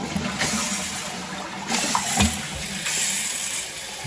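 A toilet cistern refilling once the water supply is turned back on gives a steady, continuous rushing hiss of inflowing water, close and fairly loud throughout, with slight surges.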